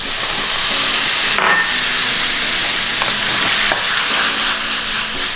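Mushrooms sizzle and fry steadily in a buttered pan with Worcestershire sauce, a loud continuous crackling hiss broken by a couple of sharper bursts as liquid hits the hot surface.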